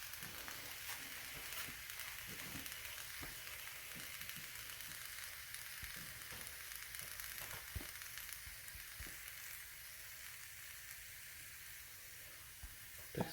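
Pork chops sizzle in a pan with a steady, faint frying hiss and scattered small pops and scrapes, no voices over it.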